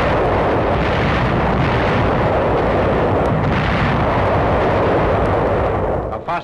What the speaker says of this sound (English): A new offensive is supported by naval gunfire and preceded by one of the heaviest artillery barrages of the